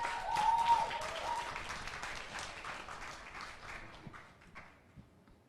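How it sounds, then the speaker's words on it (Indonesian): Applause from an open mic poetry audience, a moderately sized crowd clapping fairly quietly, strongest at the start and thinning out to scattered individual claps before fading. "Sekali lagi tepuk tangannya."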